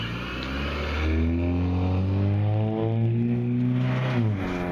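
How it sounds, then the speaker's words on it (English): Road traffic near a sidewalk strip, with a car engine droning loudly and close and its pitch sliding as the vehicle accelerates past, under a steady traffic hum. "Lots of traffic."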